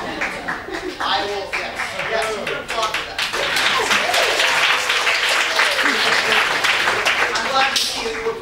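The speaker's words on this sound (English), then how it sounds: "you can applaud for that" Audience applause at a live improv comedy show, dense clapping that swells after about three seconds and holds steady and loud to the end, with voices mixed in.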